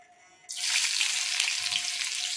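Onions and cashews hit hot oil in a pan and break into a loud, steady sizzle after a quiet start, the frying hiss holding bright and even to the end.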